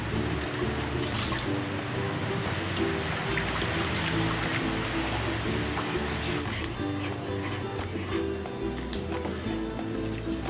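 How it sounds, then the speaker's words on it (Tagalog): Water pours steadily into a pot of pork cooking broth with a continuous splashing trickle, close by, lasting the whole stretch with faint kitchen clatter in the background. "Magdadagdag ako ng tubig."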